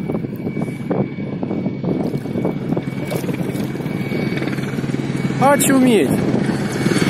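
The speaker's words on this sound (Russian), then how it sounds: "А вот вертолет летит. И низко летит." A helicopter flies low overhead, roughly ten metres up, at the seaside, its loud, steady rotor and engine roar filling the whole stretch while a man exclaims over it.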